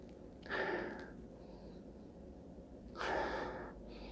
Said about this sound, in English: So let's take a sniff of this aroma.